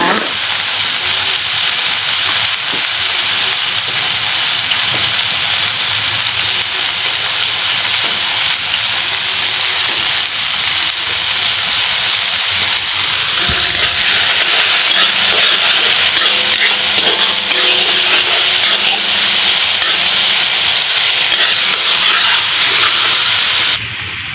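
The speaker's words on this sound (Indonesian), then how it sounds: "Ini kita tumis sampai harum ya." Risol filling sautéing in a pan, a continuous loud hiss and sizzle throughout, with faint clatter of utensils.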